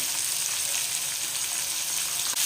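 Onions, tomatoes and green chilies sauté in a pan, giving a steady, close hiss of frying with no pauses and no talking.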